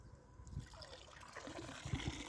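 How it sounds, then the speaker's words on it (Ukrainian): Pond water drains and trickles from a scoop of duckweed, a faint, steady dribble heard close up with no talking. "Бачите, вода сходить, вода сходить, і ви перекладаєте це все у відро."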